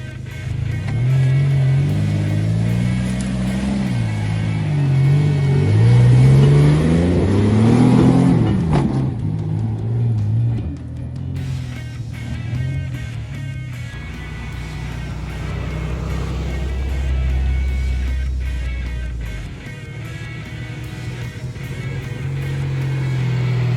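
A 4WD engine on soft and hard recovery tracks revs hard with rising and falling pitch, climbing loudly then dropping back to a lower labouring drone before surging again, heard close and without talk.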